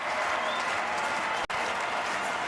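A stadium crowd at a Sweden versus Wales football match cheers and applauds Sweden's goal, a dense continuous roar of clapping and voices that breaks off for an instant before surging on.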